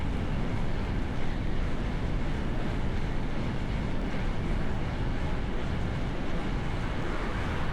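Steady, loud wind rush buffets the microphone while riding a bike with drop handlebars in a low, bent-over aerodynamic position, a continuous broadband roar with no pauses.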